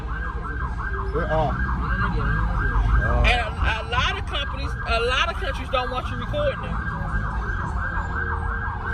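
A wailing ambulance siren sweeps up and down steadily throughout, fairly close, with a person talking over it and street traffic rumbling underneath, in Ghana.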